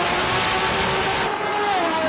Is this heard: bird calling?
no